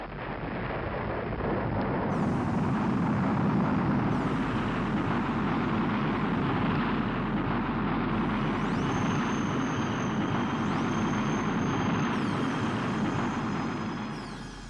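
A loud, sustained rocket-launch roar in a film scene about outer space, a dense rumbling blast that holds steady for many seconds before easing off at the end.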